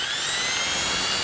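An Einhell 1010W impact drill runs steadily in reverse, a high, continuous whining motor hum that stays close and loud throughout, with no speech over it.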